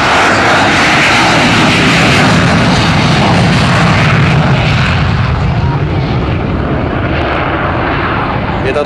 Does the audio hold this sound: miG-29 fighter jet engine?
yes